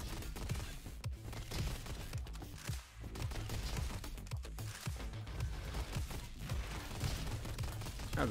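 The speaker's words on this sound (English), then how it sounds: "That was a nice rocket shot." Rapid gunfire and blasts crackle through a fight in the robot shooter Roboquest, including a rocket shot. The shots come as a dense, steady burst of sharp cracks at a moderate level.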